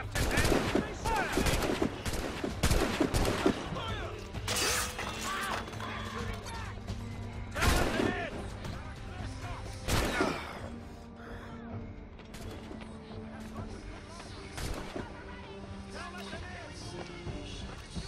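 Gunfire and cannon volleys from ships in Assassin's Creed Rogue: a rapid burst of musket shots opens, then heavy booming blasts ring out at intervals over a rumbling battle bed and voices.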